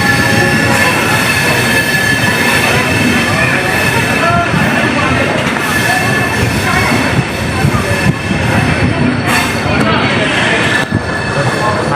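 Train running on rails during a pilgrimage journey, with a loud, steady rumble and clatter of wheels on track that continues throughout, plus occasional squeals.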